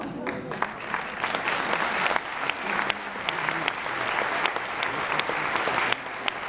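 A theatre audience at a Slovenian comedy and music show claps steadily in a dense, sustained burst of applause with crisp individual hand claps, close and lively for several seconds.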